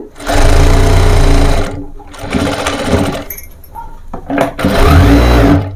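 A sewing machine stitching fabric for a three-year-old's baby frock runs in three loud, close bursts of rapid mechanical whirring, separated by short pauses.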